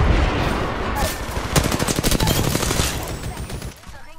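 Rapid automatic fire from an L-Star LMG in the video game Apex Legends, a dense sustained burst of shots in the middle of the clip, loud and close, with game ambience before and after.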